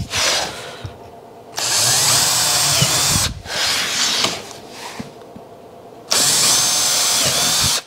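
A power drill whirs in three bursts pre-drilling scrap wood, each run a few seconds long with short pauses between, loud and close.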